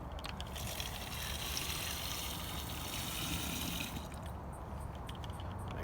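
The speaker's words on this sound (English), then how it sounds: "let's head over and add some water to this." Water pours steadily into a container to make a plant spray solution, a close, continuous rushing splash that stops after about four seconds and leaves a quiet background.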